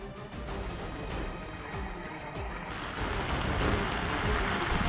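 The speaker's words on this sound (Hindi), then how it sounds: "बारिश लगातार हो रही है।" Heavy monsoon rain pours steadily during flooding in Amreli, Gujarat, a dense continuous hiss of rain on surfaces that grows slightly louder partway through, with no voices.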